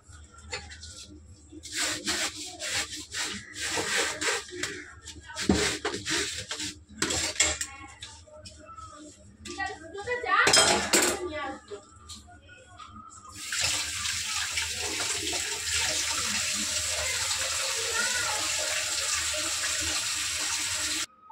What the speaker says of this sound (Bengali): এই যে বাসনগুলো মাজবো, মেজে কাজ করবো